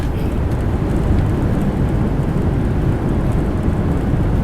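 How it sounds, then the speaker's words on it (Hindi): Heavy rain at Hyderabad airport after an Air India Express flight has landed, a dense, loud, unbroken roar heard from inside the aircraft with no talking. "क्या बारिश हो रही है यहाँ हैदराबाद में, और इस खतरनाक वेदर में हम लोग लैंड कर चुके हैं।"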